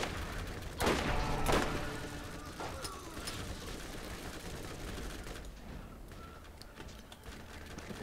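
Gunfire in the video game Borderlands: a couple of sharp bursts near the start, then scattered quieter shots and mechanical clatter over a steady, busy game backdrop.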